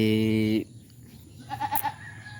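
A goat bleats once, a loud, near, buzzy wavering cry lasting about half a second, followed by quieter rustling and a few faint chirping sounds.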